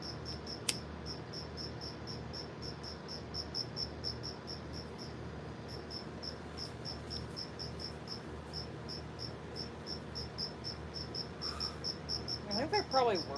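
Crickets chirp steadily in a yard at night, a fast regular pulsing that runs unbroken throughout over a low background hum, with a brief faint sound near the end.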